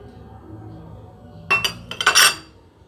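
A metal tablespoon clinks a few times against a dish while mint is added during cooking of a chickpea sauté, with short bright taps clustered together close by over a quiet kitchen background.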